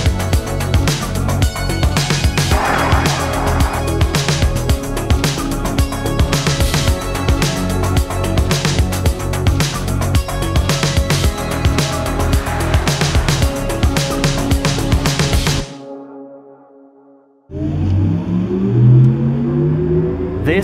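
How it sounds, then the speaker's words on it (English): A Porsche Taycan Cross Turismo drives and accelerates with a loud, continuous electric whir and road noise, then cuts off abruptly and resumes after a short silence. "This is a new Porsche Taycan Cross Turismo."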